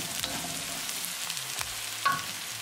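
Onions sizzling and frying in a pan while being stirred, a soft steady crackle with occasional scraping clinks of a utensil, close and quiet, no talking.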